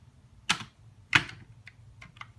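A few sharp, separate keystrokes on a computer keyboard, close and clear with quiet gaps between taps.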